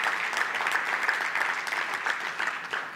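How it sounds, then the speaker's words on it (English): A church congregation claps together in a steady, dense round of applause that fills the room at moderate volume. "will you join me in giving them a round of applause for doing?"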